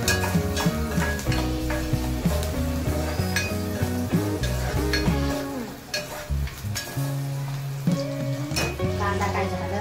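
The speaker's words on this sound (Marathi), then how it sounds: "आता द्यायला लागले फिरवत।" Onion, dal and tomato frying and being stirred in a pan, a steady sizzle with scraping of the spoon on the pan, heard under background music.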